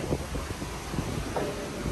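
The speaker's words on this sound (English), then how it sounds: "it's windy out here" Strong wind at sea on a cruise ship balcony buffets the microphone in rough, low gusts, a blustery roar rising and falling over a couple of seconds.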